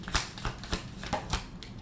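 Tarot advice cards are handled and shuffled close by, making a steady run of crisp flicks and slaps at a quick, regular pace.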